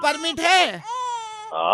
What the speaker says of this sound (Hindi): ये मेरा बच्चा रो रहा है